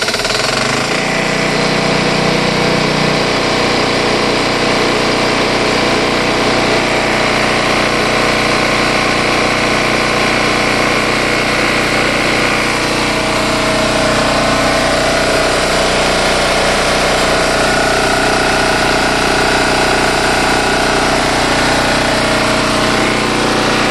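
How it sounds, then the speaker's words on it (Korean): A Mase 4.0 marine diesel generator on a yacht at a marina runs steadily and loudly throughout, a constant close engine drone with a rough mechanical rattle and no break in the noise. "이제 발전기 한번 돌려보죠."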